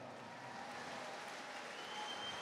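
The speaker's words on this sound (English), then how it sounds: "how about a big round of applause for both of these warriors?" A crowd at a kickboxing event applauds both fighters after a five-round bout, a soft, distant wash of clapping that swells slightly toward the end, with no voices on top.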